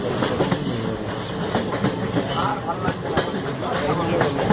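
A train runs on rails on the Goa to Hyderabad line past Dudhsagar falls, with a loud, steady rumble and rhythmic clickety-clack of wheels heard from inside, with no clear speech.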